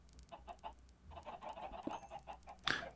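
Chickens in Minecraft, on the FTB OceanBlock modpack, clucking quietly in a run of short repeated calls, with a brighter squawk-like burst near the end.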